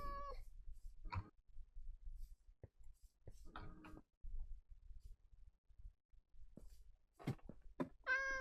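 Meows from a Minecraft cat sound sparsely between quiet game noises, a few short, clear calls at the start and end with small ticks and clicks in between.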